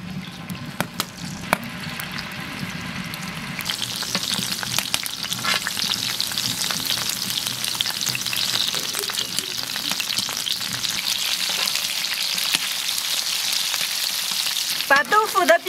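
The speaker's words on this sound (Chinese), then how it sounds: "下入豆腐煎，" Large pieces of tofu pan-fry in plenty of oil in a flat pan, with a moderate sizzle that rises and turns brighter and steadier a few seconds in, plus occasional clinks near the end.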